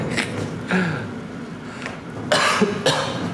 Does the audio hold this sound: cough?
yes